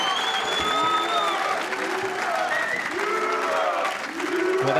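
A darts crowd at a Team Europe versus Team USA Weber Cup match cheers and applauds loudly and continuously, with whoops and shouts rising over the sustained clapping.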